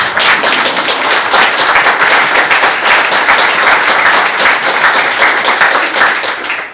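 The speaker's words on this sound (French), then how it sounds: "vous êtes déjà applaudi avant de commencer" A room full of people applauds before a presentation at a gathering for a tent-manufacturing company. The clapping is dense, loud and steady for the whole stretch, with no talking over it.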